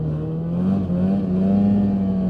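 Polaris Indy 550 full-size snowmobile engine while riding, a steady droning hum that rises slowly in pitch as the machine speeds up, close and continuous.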